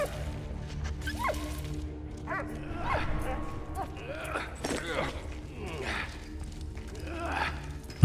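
Dog barking in the World War I game Valiant Hearts: The Great War, several short yips and barks over a murmuring ambient game score, with someone talking throughout.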